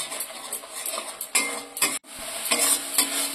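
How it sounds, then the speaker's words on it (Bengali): Masala cooks in a pan with a little water, sizzling as a utensil scrapes and clanks against the metal in repeated strokes, loud and close. "এটাকে আমি অল্প জল দিয়ে একটুখানি ভালো করে কষে নিই।"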